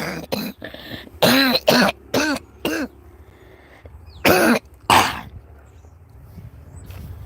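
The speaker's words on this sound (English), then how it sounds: "Oh, that coughing." Several harsh coughs and throat-clearing bursts in uneven clusters, loud and close, separated by short pauses with quiet background in between.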